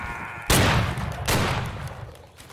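Musket fire in a Gettysburg battle video game: two loud, close volleys roughly a second apart, each a sharp crack that rolls into a fading rumble.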